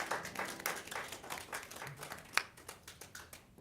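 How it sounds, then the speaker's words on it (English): Audience applause at St. Clare Meadows, a small gathering clapping fairly faintly, with irregular individual claps and a few sharper hits that taper off. "Give yourselves a round of applause."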